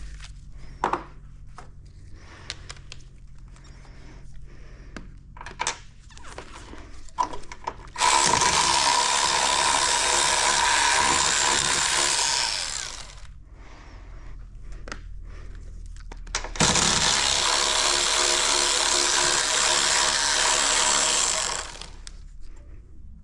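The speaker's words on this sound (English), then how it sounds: "I think my Milwaukee side impact's on its" A worn Milwaukee impact wrench fires in two long bursts of hammering, each lasting about four to five seconds, loud and close, with light clanks and handling noises in the quieter gaps.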